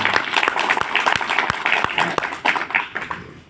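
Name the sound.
audience clapping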